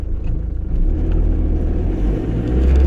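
A 216GTi car pulls away gently from traffic lights, a steady low engine rumble rising slightly and heard from inside the cabin, loud and continuous without talk.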